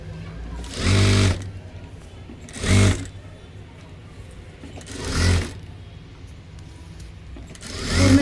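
A sewing machine stitches a blouse in four short bursts of fast, rattling whirr, each about half a second long, separated by quiet pauses with faint room noise.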